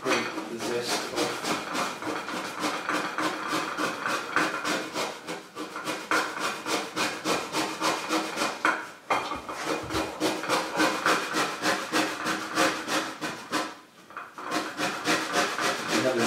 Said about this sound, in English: I'm just going to grate the zest off.